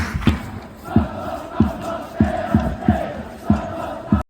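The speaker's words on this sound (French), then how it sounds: "si c'était vraiment le bruit des tribunes" A crowd in the stands at a Japanese baseball stadium chants and cheers in a rhythmic pattern, with regular loud bursts of voices roughly every half second, heard from within the crowd.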